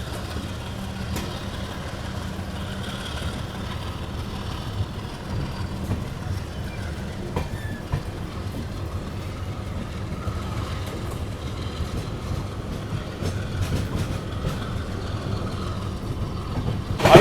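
An Agartala–LTT Mumbai AC Express pulling out of a station, a steady low rumble with faint rhythmic rail clatter and some background voices inside the carriage.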